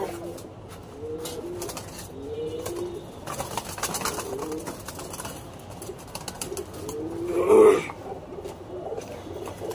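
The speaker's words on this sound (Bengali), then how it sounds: "এটা আরেকটা মাদি কবুতর।" Female pigeon cooing in a home loft, a soft low murmur repeating under background household noise, swelling louder near the end.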